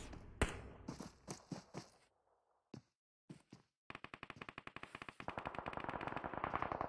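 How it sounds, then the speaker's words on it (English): Gunfire in a competitive multiplayer video game: several separate shots, a short pause, then a long rapid burst of automatic fire that grows louder toward the end, with no talking. "What are all those shots?"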